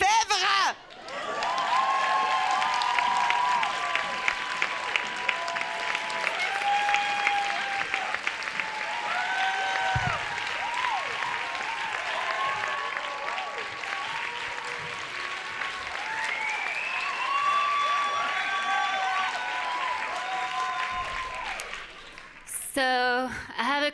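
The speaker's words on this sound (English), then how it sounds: "So give a big applause to Claire Lefebvre." A comedy club crowd gives a comedian sustained applause with cheers and whoops, loud and steady for about twenty seconds, with voices mixed in before it fades.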